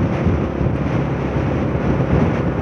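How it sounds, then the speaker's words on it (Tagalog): Strong wind blows steadily outdoors among trees, a dense continuous roar buffeting the microphone with no pauses and no talk. "napakalakas ng hangin ngayon."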